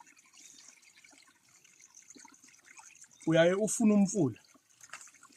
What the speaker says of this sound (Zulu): Uyahamba lo mfula uyawuzwa ukuthi uyakhala la.